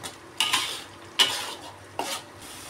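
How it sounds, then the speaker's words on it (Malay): A spoon stirs a boiling paste of shallots, garlic and chili in a pot, three distinct scraping strokes against the metal at a slow, even pace over a soft simmering bubble, no talking. "Kita kena kacau selalu, mengelakkan hangit ya."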